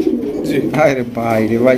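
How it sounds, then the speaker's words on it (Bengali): A single pigeon coos in a loft, low throaty calls mixed under a man's close, loud talk. "এটা সিঙ্গেল কবুতর, এটা না চাইলেও ডাকবে।"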